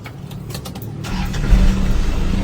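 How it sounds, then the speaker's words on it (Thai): A 1995 Ford car engine cranks briefly, catches, and settles into a loud, steady turbo diesel rumble close by, with no one speaking. "เครื่องฟิตติดง่ายครับ"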